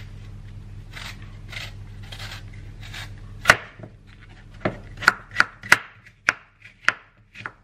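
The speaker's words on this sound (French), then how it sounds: "je vais les couper en lamelles et je vais les mettre dans la préparation." A knife slicing apples on a cutting board, a series of crisp sharp chops and clicks, sparse at first then coming in quicker near, sharp strokes, close and clear with no talk.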